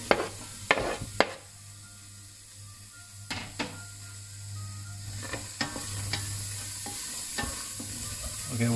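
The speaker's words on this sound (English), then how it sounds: "I'll saute the onion and garlic." Onion and garlic sauté in a pan for a Filipino kare kare, giving a steady soft sizzle with a few sharp clinks and scrapes of stirring near the start, heard close and without talk.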